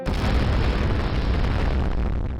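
A deep, rumbling explosion in an oxygen-filled building ignited by a match, a loud sustained boom that fades slightly at the end.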